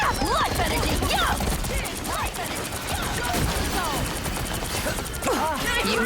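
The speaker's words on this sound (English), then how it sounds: "Time for some fireworks." Fireworks in a video game burst in rapid, crackling volleys, a dense and loud stream of pops and bangs with whooshing streaks layered through, under faint game voices.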